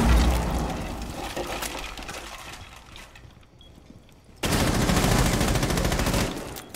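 Sustained gunfire in a video game firefight, dense rapid bursts that fade briefly then return loud and continuous, with crackling impacts and breaking sounds and no talk over it.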